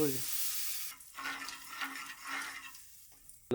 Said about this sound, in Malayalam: ഉപ്പിട്ടോ ഇളക്കി മിക്സ് ചെയ്ത് മൊത്തം